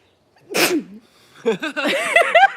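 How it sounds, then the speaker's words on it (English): A single sharp sneeze bursts out close by, followed a moment later by a short vocal sound. "Oh, I have to sneeze."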